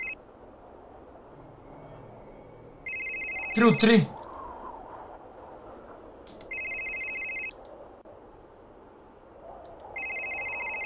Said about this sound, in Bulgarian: Не мога да вдигна телефона.